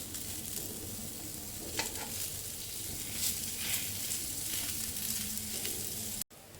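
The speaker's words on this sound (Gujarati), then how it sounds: "આ રીતે એને શેપ આપી અને આપણે શેકી લઈશું એને" Aloo tikki patties shallow-frying with butter in a pan give a steady, close sizzle and crackle that runs without a break, with a brief dropout near the end and no voices.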